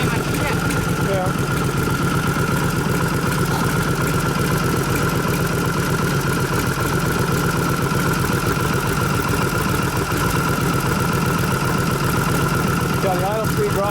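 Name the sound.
1989 Harley panhead 93ci stroker engine idling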